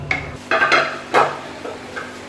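A spoon stirs beef liver with yogurt frying in a pot, giving a few close scraping clinks against the metal over a faint background hiss.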